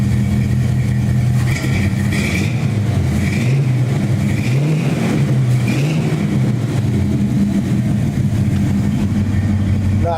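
A 1970 GMC truck engine fitted with a new exhaust runs steadily, its low, even rumble idling and swelling slightly with light revs, close and continuous throughout.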